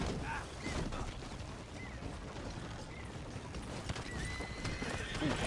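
A horse in the Red Dead Online video game whinnies and neighs while hooves clip-clop steadily nearby, with faint mechanical clicks and ratcheting alongside, moderately loud and without talk.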